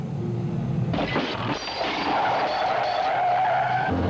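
A 1960s Jaguar Mark 2 saloon skids hard through corners, its tyres squealing loudly and continuously over a roaring engine in a close, intense chase with no talking.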